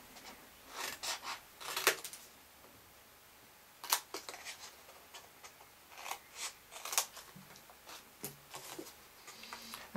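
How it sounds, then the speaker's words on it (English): Scissors snipping through card along a crease while making a scallop tag topper closure box, a series of sharp, close, irregular cuts with brief pauses between them. "I'm going to cut that all the way down to the next crease."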